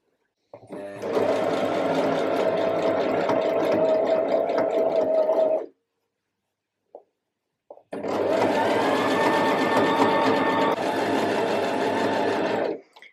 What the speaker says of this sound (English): just literally follow it round with that zigzag stitch